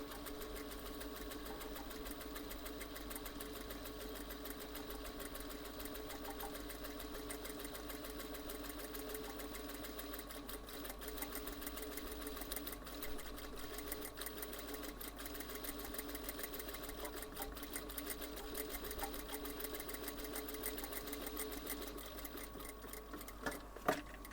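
A sewing machine stitches a puff sleeve in a steady, continuous mechanical whir that runs unbroken for the whole stretch, close and even, with no voices.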